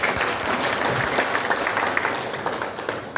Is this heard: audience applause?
yes